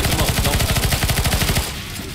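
Rapid automatic gunfire from a CS:GO Zombie Escape match, a dense rhythmic stream of loud close shots continuing for most of the moment before cutting off.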